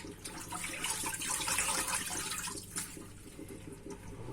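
Anchovies are rinsed by hand under a running tap into a sink, a steady rushing splash with brief watery sloshes and a quieter patch toward the end.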